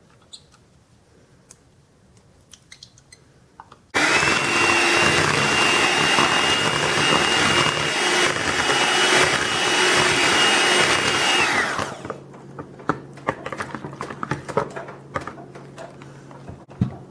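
Eggs and pumpkin whisked together in a large bowl for pumpkin fritters, a loud steady whirring burst of about eight seconds, likely an electric mixer, starting abruptly and stopping, with quiet bumps before and after.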